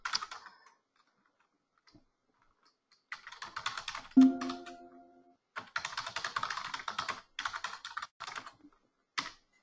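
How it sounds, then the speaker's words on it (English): Bursts of rapid keyboard typing, close and clicky, broken by pauses, with a short ringing chime sounding partway through. "my fingers start typing faster than my computer wants to display it"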